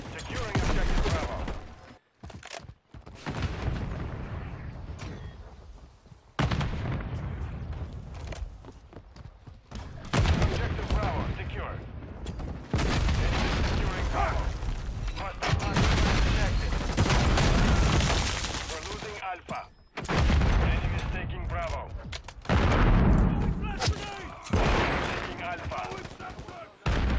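Dense automatic and single-shot gunfire from Call of Duty: Modern Warfare 3 multiplayer, loud and near, in sustained bursts with brief gaps, under short shouted voice lines.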